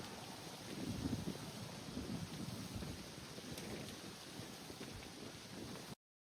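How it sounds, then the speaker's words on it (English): Ice crackling in windblown trees during a winter storm: steady dense crackling and pattering like rain, with a low rumble of wind, continuous and fairly faint, cutting off abruptly at the end. "It was not rainfall, but it was the ice making that sound"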